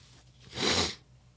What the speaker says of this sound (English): I'm gonna fucking sneeze.